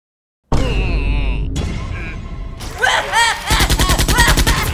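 A cartoon magic lightning gun fires a series of electric zaps with swooping, warbling tones, then breaks into rapid, loud stuttering bursts.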